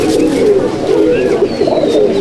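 Malwai pigeons at a rooftop loft coo steadily and closely in a dense, overlapping chorus, with faint chirps and scattered noise above.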